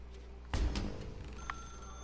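In The Stanley Parable video game, a telephone rings with a sharp bell burst followed by a couple of fainter, spaced rings, heard fairly quietly.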